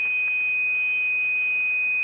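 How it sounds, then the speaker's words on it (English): A heterodyne whistle, or birdie, on a ham radio SDR receiver: a single steady high-pitched tone holds unbroken over faint background hiss for the whole stretch. "Okay, you see this heterodyne?"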